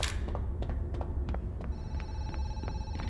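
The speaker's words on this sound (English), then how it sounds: "there's a phone ringing downstairs" A telephone rings in the horror zoo game Zoochosis, a steady repeating electronic ring from downstairs, fairly distant over a low background hum, with no talking.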